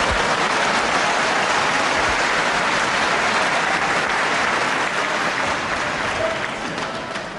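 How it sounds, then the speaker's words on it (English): A packed-to-capacity crowd at De Montfort Hall in Leicester applauds a wrestling move, sustained thick applause filling the hall for several seconds and easing slightly toward the end. "applauded by the packed to capacity crowd here at this wonderful De Montfort Hall in Leicester"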